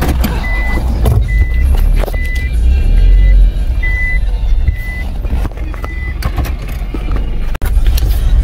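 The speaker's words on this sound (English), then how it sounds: "you can drive in the yard like this" Car driving slowly into a yard, a close engine rumble under a repeating series of high beeps, with a sharp knock near the end and no talk.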